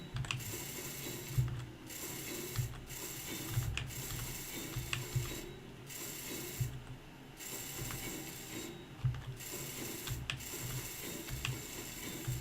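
Welding in the video game Space Engineers: a loud, continuous mechanical ratcheting and grinding with repeated clicking pulses that keep a steady rhythm, heard alone with no voices.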